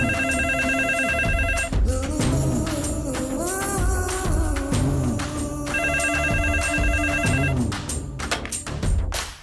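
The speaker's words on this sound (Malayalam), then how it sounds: "ലാൻഡ് ഫോണിൽ ഒന്ന് വിളിച്ചു നോക്കാം." A landline telephone rings over a call, loud and continuous throughout, with repeating ringtone bursts layered over dramatic background music and no speech.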